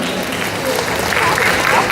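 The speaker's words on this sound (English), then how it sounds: "On applaudit Daimona, on applaudit toujours Daimona." An audience at a Paris Manga convention panel breaks into applause, a dense, loud burst of clapping from a seated crowd that swells slightly toward the end.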